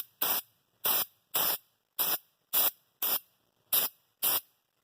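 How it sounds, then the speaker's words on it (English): Eight short bursts of hissing aerosol spray onto a tire sidewall being repaired, in a steady rhythm, each about half a second, close and clear, no talking. "Then you just spray that all over there."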